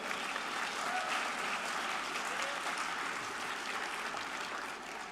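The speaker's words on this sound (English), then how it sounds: "Give him a round of applause." A crowd at a planning excellence awards presentation claps steadily, a soft, distant wash of many hands that holds even for several seconds and tapers slightly toward the end.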